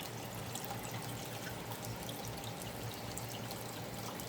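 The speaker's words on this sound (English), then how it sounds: "It pumps up water through the creek." Water pumped up from a backyard pond runs down a garden creek, a steady close trickle and splash that flows without a break and with no voices.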